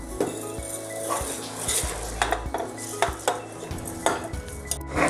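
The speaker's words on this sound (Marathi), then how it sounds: "आता आपण ह्यामध्ये जे आपण धुवून घेतलेले तांदूळ आहे ते घालूया" Washed rice tipped into a pot of masoor dal masala, with metal clinks of a spoon against the pot and scattered pouring and scraping sounds, close and fairly clear with a faint sizzle beneath.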